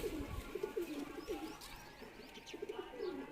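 Madrasi pigeons coo repeatedly in soft, rolling calls, a flock murmuring close by with faint chirps and rustling in the background.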